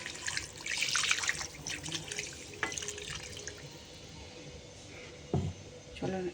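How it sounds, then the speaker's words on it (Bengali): Water pours into a pan of braising meat curry on a home stove, a close splashing rush that fades to trickles and light clatters. "এই দেখো জল দিচ্ছি।"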